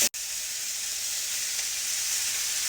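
Turmeric dropped into hot oil, a sharp onset followed by a loud, even, close sizzle that holds steady without pause.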